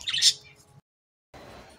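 Pet breeding birds in a small home setup give a short shrill squawking chirp burst, followed by a moment of silence and then a faint low background.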